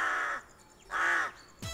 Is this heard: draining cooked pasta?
no